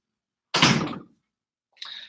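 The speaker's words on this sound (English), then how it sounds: "close that door" A door closes in a basement. One loud, close thud comes first, then a fainter short knock follows after a pause, with silence around both.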